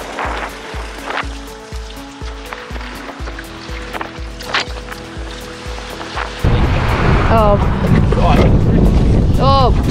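Strong gusty wind buffets a boat running downwind under bare poles in gusts near 28, roaring steadily over rhythmic engine thumping, and the wind rush surges louder in the second half as water splashes.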